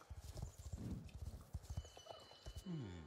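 Horse hooves clip-clop in a rhythmic series of close steps in the online game Star Stable Online, followed by a short whinny near the end.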